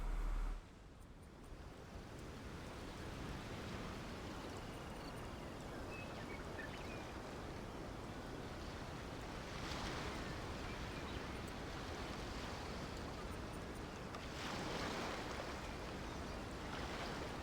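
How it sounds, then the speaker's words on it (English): Wind and waves wash through a quiet scene in a samurai-era video game, a steady gusting hiss with soft surf swells rising and falling, gentle and continuous, no voices. "You just hear the wind and the waves."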